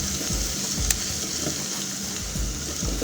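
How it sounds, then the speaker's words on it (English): Egg curry sizzles steadily in a pan over medium heat, a constant close frying hiss with faint scraping of a spoon stirring through it, no voices. "Let me stir."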